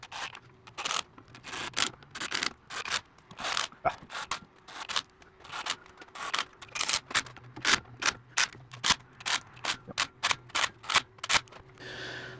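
A new differential cover is fastened onto a Jeep Gladiator with a ratcheting tool, giving a long run of sharp, evenly spaced clicks up close that come faster near the end, with no speech.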